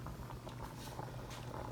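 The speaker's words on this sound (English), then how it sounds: "And it is boiling." Steady bubbling and hissing of water boiling in a pot on a stove burner while cooking penne, a continuous low simmer with no voices.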